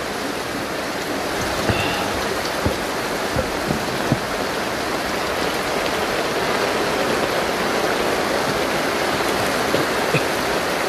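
Floodwater near the seaside flows in a constant broadband rush, steady and fairly loud, with faint occasional splashes and no voices.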